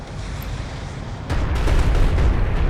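Strike craft blowing apart in the real-time strategy game Homeworld: Deserts of Kharak: a steady, dense roar of battle noise that swells into a louder, rumbling blast partway through and stays heavy to the end, with no voices.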